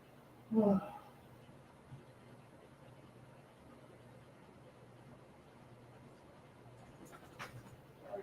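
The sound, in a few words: service dog panting and whimpering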